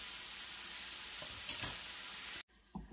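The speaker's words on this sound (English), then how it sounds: "we're just going to let that hamburger get good and done" Hamburger with onions and peppers sautéing in a pan, a loud, steady frying sizzle close by with a few stirring scrapes, cut short by a quieter moment of clatter.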